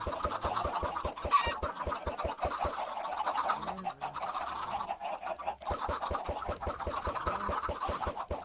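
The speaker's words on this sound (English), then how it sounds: "Happy chickens make chimey chickens." Chickens in the Minecraft video game cluck in a steady stream of short repeated calls, close and continuous with no talking.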